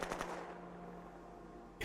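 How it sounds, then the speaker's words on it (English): Gunfire in the strategy video game Shadow Empire: a quiet, short burst of rapid machine-gun shots at the start that fades into a low hum, with a brief sharp hit at the end and no talk. "We're definitely taking gunfire."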